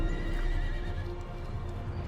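A horse neighs in a historical strategy game cinematic. A loud, wavering whinny sounds close over a thick low rumble for about two seconds, with no speech.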